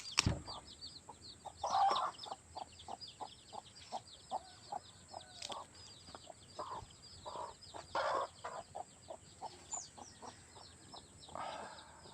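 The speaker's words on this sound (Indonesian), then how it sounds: "Ayam berisik." Chickens cluck repeatedly in quick, irregular bursts nearby, with occasional louder squawks over a faint background hum.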